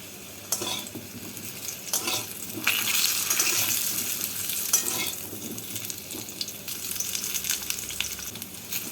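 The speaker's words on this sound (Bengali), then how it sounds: "এবার আলুগুলোকে ভেজে নেব" Potatoes frying in mustard oil, a loud, close, continuous hissing sizzle with occasional stirring clatters and bursts of stronger spitting, with no talk.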